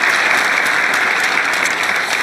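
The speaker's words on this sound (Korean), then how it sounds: "박수로 동의해 주시기 바랍니다" An audience at a business investment speech breaks into sustained applause, a dense, even wash of many hands clapping close and loud throughout, with no voices rising above it.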